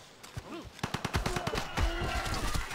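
Rapid rattling bursts from a Gatling gun firing at horsemen in Civilization V, sharp repeated cracks in quick succession, loud and close over game ambience.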